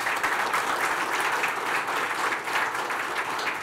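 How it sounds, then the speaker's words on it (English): Audience at a CIO summit giving a round of applause for the event vendors, a steady, dense burst of many hands clapping, even in loudness and uninterrupted by speech. "round of applause for our lovely vendors."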